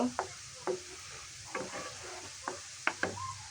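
Coconut pieces fry quietly in a pan while a spatula stirs and scrapes at irregular intervals, giving sharp short clatters over a faint sizzle.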